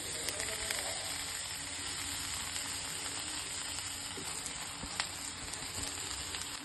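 Carrot pieces fry in hot oil with curry leaves, green chilli and dal for a quick carrot pickle, giving a soft, continuous sizzle and faint crackle at low volume.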